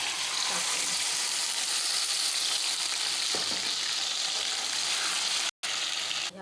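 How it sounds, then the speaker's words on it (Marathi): Milk-soaked semolina tipped into caramelized sugar for suji halwa sets off a loud, hissing sizzle that stays dense and continuous for several seconds, close up, with a brief dropout near the end. "आता हा रवा आपण याच्यामध्ये टाकूया."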